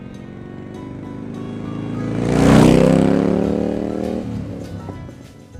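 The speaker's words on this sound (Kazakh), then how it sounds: "Мотоцикл." A motorcycle engine revs and swells to a loud peak before easing back, its rising and falling harmonic drone holding steady throughout with no speech over it.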